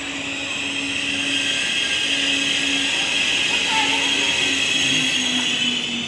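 A Lao-China train arriving at a station rumbles steadily nearby with a broad, continuous roar and a faint tonal hum, a voice briefly audible over the noise.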